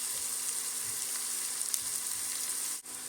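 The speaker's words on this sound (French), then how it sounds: "On laisse un peu suer donc les oignons" Onions sweat in a pan with turmeric powder and salt, giving a steady, soft sizzle with a constant hiss and a brief dip near the end, no voices.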